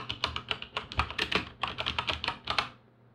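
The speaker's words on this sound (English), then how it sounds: "Type in the words Device Manager and it should find that screen for you" Computer keyboard keys clatter in a quick, uneven run of about twenty close taps while entering text into a Windows search box, then stop, with no voices.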